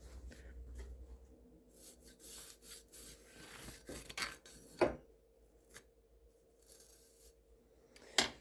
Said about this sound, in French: les vieilles brosses à dents sont vraiment super pour ça